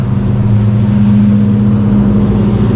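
Pontiac Firebirds on a Smokey and the Bandit run drive through the mountains, a loud, steady engine drone holding close and unbroken throughout with no voices.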